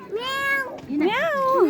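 Two drawn-out, whiny meows follow one another closely and sound near and fairly loud, with the second call rising and falling in pitch.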